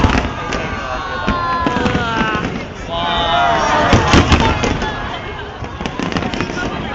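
A fireworks display bursts in a rapid, crackling series of pops and booms, loud and continuous, with crowd voices talking over the show.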